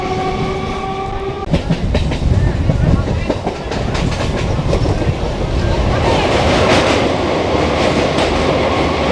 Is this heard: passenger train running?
yes